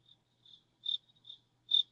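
Crickets chirp outside in short high-pitched bursts, about five pulses in two seconds with uneven spacing, fairly faint but clear against a quiet background, with no voices.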